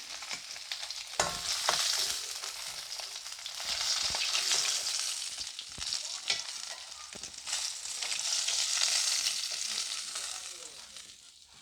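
Fish fries in hot oil with a continuous sizzle and crackle, punctuated by sharp pops and the scrape of stirring, heard up close and steady throughout with no talking.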